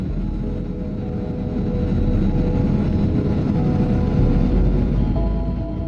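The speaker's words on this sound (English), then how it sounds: "And now we're landing in Paris." An airliner lands at Paris Charles de Gaulle Airport, heard from inside the cabin as a loud, steady engine roar and airflow rumble that swells slightly partway through and holds to the end.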